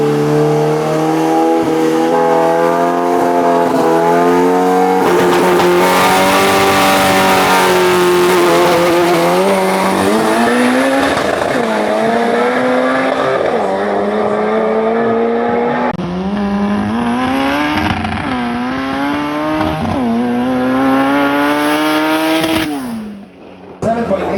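An all-wheel-drive Toyota Fortuner and a Honda launch in a Philippine drag race, with loud, close engines roaring and revving up through rising gear sweeps for about twenty seconds before cutting off abruptly.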